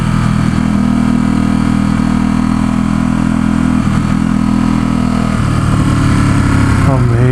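A 2017 Ducati SuperSport S engine drones steadily while riding on San Francisco roads, loud and close with a constant low hum and wind rush, and the pitch shifts near the end.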